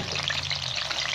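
Sliced onions and shallots fry in a pan with a dense, steady sizzle close up, continuous and alone without speech, with a faint stirring texture under the crackle.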